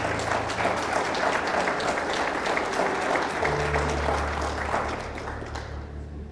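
A church congregation applauds, producing a steady, dense clapping that fills the room for several seconds and then fades slightly at the end.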